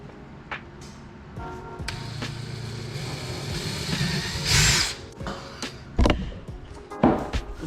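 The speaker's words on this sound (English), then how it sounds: "It's gonna drill this hole small" A power drill bores a small hole in a part for a Coleman BT200X mini bike, short whirring bursts and grinding against the metal amid workshop clatter, fairly faint and intermittent.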